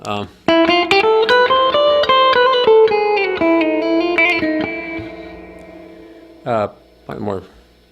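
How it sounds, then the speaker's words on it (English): Electric guitar playing a short melodic phrase of plucked notes drenched in heavy reverb, with long ringing tails fading out, followed by a couple of brief quieter strums near the end. "That's more reverb than usual."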